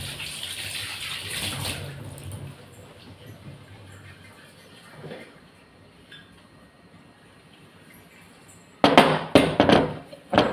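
Water and coarse rock salt are swished inside a flask to scrub it clean: soft running and splashing at first, then a quiet stretch, and finally loud, choppy sloshing bursts close by.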